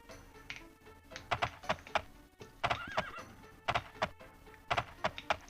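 A horse whinnies with a rising, wavering call in Daggerfall amid repeated sharp clicks and thumps, like game sound effects, close and moderately loud.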